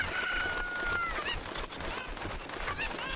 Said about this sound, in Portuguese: Vem, galinha.